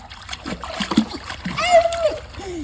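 A child splashes in a pool during a first swimming lesson, with bursts of splashing water under an adult's voice calling out encouragement nearby.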